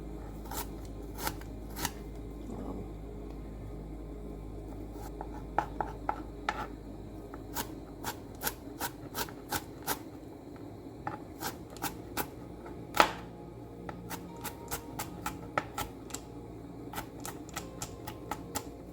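A knife slices garlic on a cutting board while making shakshuka, giving a steady run of sharp, close taps that come in irregular bursts with brief pauses and no talking.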